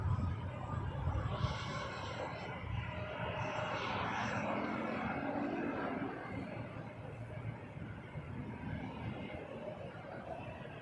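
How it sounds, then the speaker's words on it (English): A Delta Airbus A319 airliner at Toronto Pearson Airport roars past, a steady jet engine rumble that starts strong and gradually fades as the plane moves away. "Delta A319."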